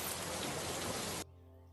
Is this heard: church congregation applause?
no